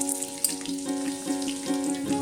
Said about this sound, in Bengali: 50 গ্রাম সর্ষের তেল ভালো করে গরম করে এবার আমি ডুমো ডুমো করে কেটে রাখা আলুগুলোকে ভেজে নিচ্ছি।